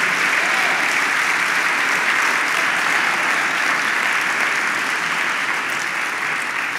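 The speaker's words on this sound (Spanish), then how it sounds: "Vamos, dele palmas al Señor." A church congregation claps for the Lord in a steady, dense wash of applause that fills the room, loud and sustained without pause.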